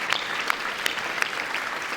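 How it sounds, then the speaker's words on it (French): Applause from an evening audience for the Vélo Club de Montigny volunteers, dense broadband clapping with a few sharper claps standing out, steady and moderately loud throughout, no voices. "Oui, on peut les applaudir."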